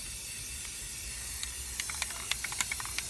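Spray paint hisses from a can onto the fabric covering of a dual 18-inch subwoofer box in a soft steady stream, broken by short sharp bursts toward the end.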